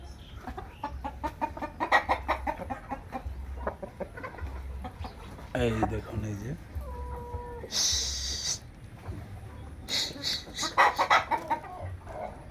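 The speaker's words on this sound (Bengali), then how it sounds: "এই দেখুন বিগ সাইজের টাইগার মোরগ" Big Tiger breed roosters cluck in busy, repeated bursts on a chicken farm, with brief squawks and a louder flurry near the end, while a person speaks briefly nearby.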